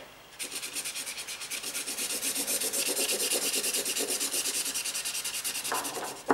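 Distress markers scribble fast back and forth on paper, making a rhythmic scratchy rubbing close to the microphone, steady for several seconds with no voices.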